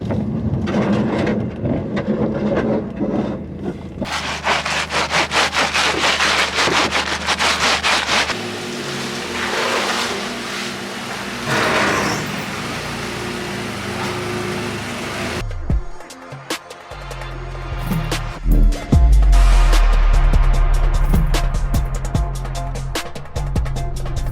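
Fender rolling on a Mazdaspeed6, with rough scraping and rubbing of a roller tool against the car's metal fender lip, shifting in texture with intermittent clunks and bursts of noise.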